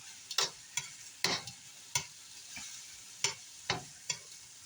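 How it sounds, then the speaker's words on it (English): Shrimp being flipped one at a time in a hot pan, each turn bringing a sharp sizzling burst, about eight crisp spurts at an irregular pace, close and clear with no talking. "flipping each shrimp individually"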